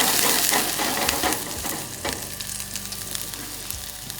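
Food sizzles steadily in a hot pan with avocado oil while making smash burgers, a close, continuous crackling fry that eases slightly toward the end, with no talk.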